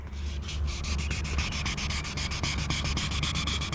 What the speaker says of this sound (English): But I'm gonna keep sanding here.